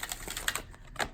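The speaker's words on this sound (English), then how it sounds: "So the shuffling looks like this." An oracle card deck being shuffled by hand, heard as a quick run of crisp, papery clicking riffles up close for about a second, with no voices.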